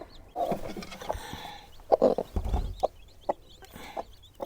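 A broody hen clucks in short bursts, close by, with scattered soft peeps from her chicks and some handling noise between the calls.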